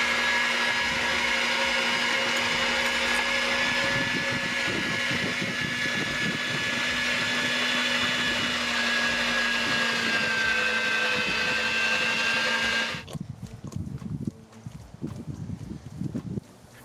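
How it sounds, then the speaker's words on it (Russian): An electric meat grinder whirs loudly and steadily as it minces boiled meat for Ossetian pie filling, the motor hum running for most of the stretch before cutting off abruptly, leaving a few scattered clatters and handling noises. "Вареное мясо я буду измельчать через мясорубку"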